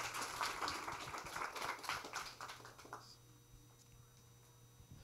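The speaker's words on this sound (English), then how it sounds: "let's give a round of applause" A short round of audience applause at a talk, moderately faint clapping that thins out and fades after about three seconds, leaving a quiet room hum.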